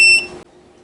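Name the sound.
beep as the electric blanket powers off automatically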